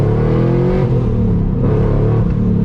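Engine of a Mazda FD RX7 revved hard, a loud continuous buzzy drone with rising and falling pitch that fills the whole moment with no talking.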